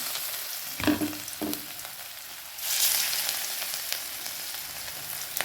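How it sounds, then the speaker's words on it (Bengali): Pieces drop into very hot oil for deep frying, setting off a rising bubbling hiss after a few low knocks and clatters, then a steady close crackle with no one speaking. "বেশ সুন্দর করে হালকা লাল এপিট এপিট করে ভেজে ভেজে তুলে নিতে হবে।"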